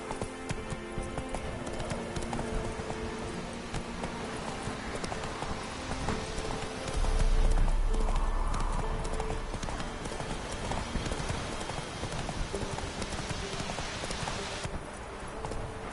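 Roach, Geralt's horse in The Witcher 3: Complete Edition, gallops with a steady, close clip-clop of hooves that keeps up throughout, swelling briefly in the middle. No one speaks.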